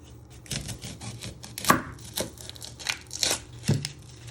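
A knife chopping the ends off a red onion on a cutting board, a handful of crisp separate cuts and thuds spaced irregularly, close and fairly quiet.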